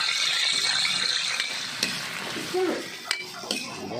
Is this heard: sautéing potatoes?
yes